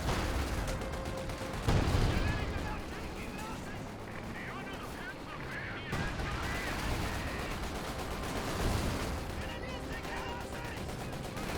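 Artillery shells from an officer's call land on a machine-gun position in the Company of Heroes 2 real-time strategy game, a continuous barrage of booms and crackling gunfire with a couple of heavier impacts, running under the rest of the battle.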